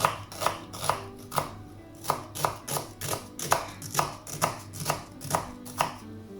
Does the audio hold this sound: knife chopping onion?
yes